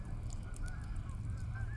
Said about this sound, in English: enjoy the geese in the background